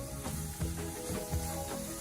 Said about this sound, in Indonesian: Tumis sebentar aja